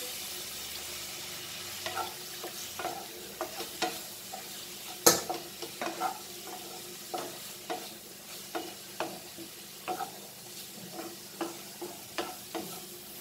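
Potato paratha filling fries in a pan with dry masalas and coriander powder, giving a soft steady sizzle broken by a string of regular scraping and stirring taps, one sharper knock near the middle.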